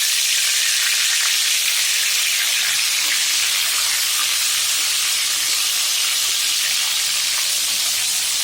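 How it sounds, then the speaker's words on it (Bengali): Spice-coated koi fish, rubbed with chili powder, turmeric, onion and salt, fries in hot oil with a loud, steady hiss and sizzle that carries on unbroken with no one speaking. "অবশেষে মাছ ভাজতে চলে আসলাম"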